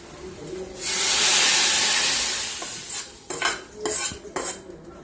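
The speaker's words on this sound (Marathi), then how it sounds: "आता आपण हे फोडणी घालूया." Sharp burst of hot oil sizzling loudly as spices hit the pan with roasted garlic for a fenugreek-leaf dish, fading into softer hissing, followed by a few metal utensil clinks and scrapes.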